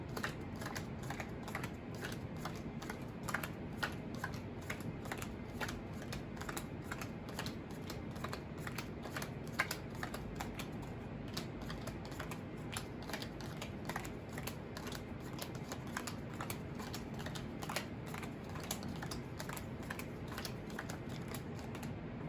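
Playing cards sorted by suit, hearts, clubs, diamonds and spades, being shuffled one card at a time in a steady, continuous run of close, soft, crisp card clicks and slides with no talk.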